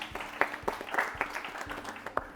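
A small audience applauds a team at a quiz show, giving brief, fairly faint and scattered clapping in a hall that fades out within a couple of seconds.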